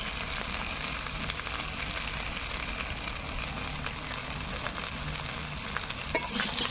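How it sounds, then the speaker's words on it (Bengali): Vegetables for shukto fry with ginger paste and ground spices as they are stirred, a quiet, even sizzle with faint scraping, steady throughout and without speech. "ভালো করে নাড়াচাড়া করে নেবো"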